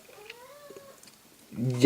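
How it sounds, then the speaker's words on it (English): A house cat gives one quiet, drawn-out meow that rises and falls. A person's voice starts loudly right after it. "my cat is being a very big sook"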